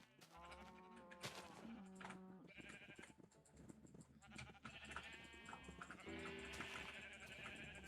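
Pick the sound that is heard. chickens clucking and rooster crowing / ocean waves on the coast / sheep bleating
sheep bleating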